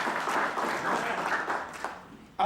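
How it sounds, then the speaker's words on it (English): A church audience breaks into applause, a dense, steady wash of clapping that carries for a couple of seconds before tapering off, with a brief louder burst at the very end. "let's clap for them."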